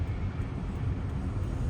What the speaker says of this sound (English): that is the first plane I've seen take off.